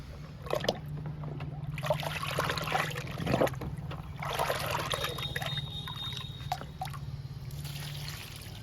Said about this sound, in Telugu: అందుకని అలోవెరా లిక్విడ్ ఇస్తున్నాను